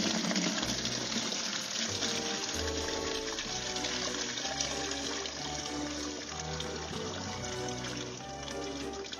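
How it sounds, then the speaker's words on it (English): Lead-acid battery acid poured into a polypropylene bucket, a continuous gushing, splashing liquid pour that runs steadily for several seconds at moderate loudness, with no talking. "I'll pour it into this polypropylene bucket."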